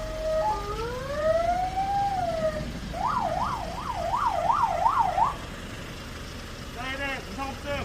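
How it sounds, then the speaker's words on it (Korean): An ambulance siren runs through its tones during a daily check at a 119 safety center. A slow rising-and-falling wail gives way to a rapid yelp, then a short burst of another pattern, with a voice present. "사이렌 점검!"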